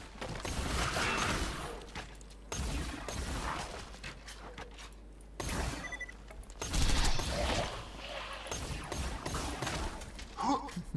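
Rapid magical sword-firing gun bursts in Borderlands 2, fired in repeated clusters of sharp shots and clanks over game sound effects, fairly quiet overall.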